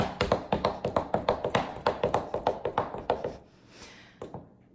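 Step dance footwork tapping at full speed, a fast steady run of sharp percussive foot taps close by, ending with a few scattered, lighter steps.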